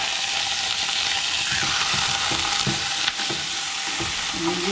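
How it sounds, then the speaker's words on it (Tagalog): Chunks of meat, over half a kilo, sizzle loudly in a hot pan while being sautéed, with a steady frying hiss and occasional stirring scrapes close by. "Lagay na rin natin itong chunks na karne"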